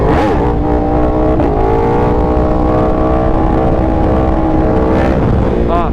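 A Yamaha R1 sport bike on a fast group ride revs loudly and close, its engine pitch climbing and then dropping sharply at two quick upshifts, with wind roar throughout.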